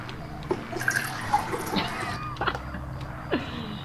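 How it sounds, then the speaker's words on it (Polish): A drink pours into a glass indoors, a faint, steady watery trickle with small splashes and drips, set among light room noise and scattered clicks. "Ja nalewałem picie do szklanki"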